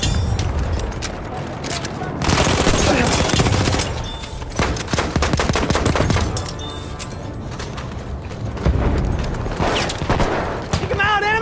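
Machine gun fire crackles in a video game battle against shock troopers, loud bursts and booms coming in repeated volleys with shouted in-game voices between them.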